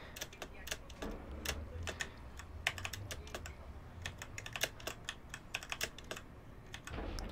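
Computer keyboard keys, space bar among them, are pressed during play of a DeathRun game, giving irregular quick clicks and taps, some in fast bursts, close and fairly quiet over a low background hum.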